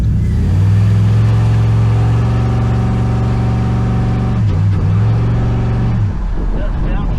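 A Celica fitted with a V8 and a 4T65E automatic transmission, its engine pulling up toward 4,000 RPM in a loud, steady drone from inside the car, dipping briefly near the end.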